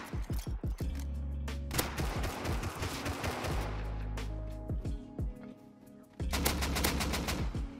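AK rifle gunfire in the Rust survival game: rapid automatic bursts with sharp, close cracks and heavy low thumps, broken by short pauses and a final long burst.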